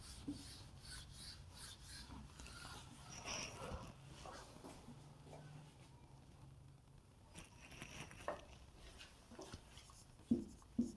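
Pen or marker scratching on a board or paper during a Hindi agriculture lesson, a quiet steady rasp of strokes with a few sharper taps near the end.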